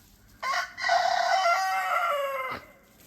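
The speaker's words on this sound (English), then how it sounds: "Never listens to the rooster calling them back home." A rooster crows once, a long drawn-out call that rises and holds before breaking off, close and clear against a quiet background.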